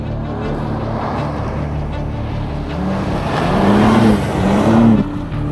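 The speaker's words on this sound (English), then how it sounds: "Nice little drift here." A car drifts on an ice track in an all-wheel-drive comparison of an Audi RS5, BMW M3 and Nissan GT-R. A steady close engine drone rises and falls as the throttle swings, building louder toward the end.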